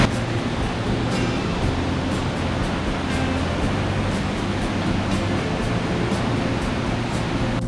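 Urami Falls in Nikko, Japan pours as a dense, unbroken roar of falling water, loud and close, sounding continuous and wash-like without pause or voices.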